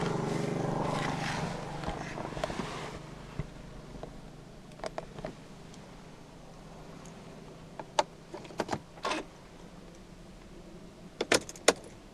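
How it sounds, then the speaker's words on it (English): A faint electric whirr as the side mirrors of a 2009 Mercedes-Benz C 200 Kompressor fold in on locking, followed by scattered soft clicks and small mechanical taps in a quiet setting. "upon locking the car, the side mirrors automatically folds in again"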